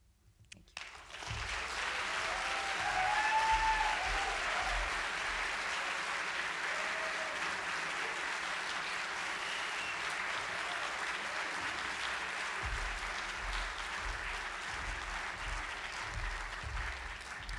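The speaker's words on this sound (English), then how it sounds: "Everyone give Miranda another round of applause." Audience applause for a storyteller at a live storytelling event, sustained steady clapping from a seated crowd that swells early and holds through to the end with a few louder bursts.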